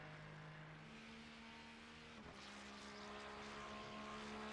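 A Ferrari GT race car's engine in a racing video game, a steady droning note holding a fairly constant pitch with a brief dip midway, then continuing with rising broadband roar, no talking.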